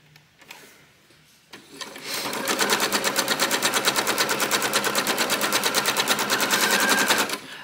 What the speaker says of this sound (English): And then I'm gonna sew on the 45.